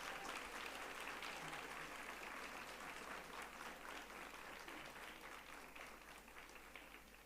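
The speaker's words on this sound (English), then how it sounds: "a resounding round of applause." Audience at a university graduation ceremony breaks into sustained, dense applause that holds steady for several seconds and slowly tapers toward the end, heard from within a large hall crowd.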